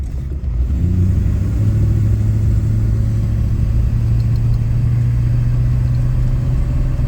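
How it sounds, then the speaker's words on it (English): A 1966 Ford Mustang Convertible engine pulls strongly under throttle, its deep, steady rumble rising slightly early on and then holding loud and close for the rest of the stretch, with no voices. "you'll notice when I hit the gas, no hesitation"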